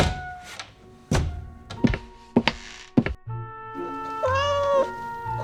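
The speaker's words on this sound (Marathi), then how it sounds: "खट्याळ मांजर पप्पू, उद्या सकाळी मी तुम्हाला छान नाश्ता करून देईन." A cartoon cat in an animated children's story meows once in a clear rising-falling call near the end, after a few dull thumps and taps close by.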